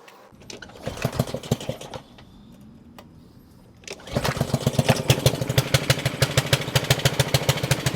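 A small pressure washer engine pulls over and fires up, sputtering unevenly with the choke on, then settles after a short lull into a loud, steady, rapidly pulsing run close by.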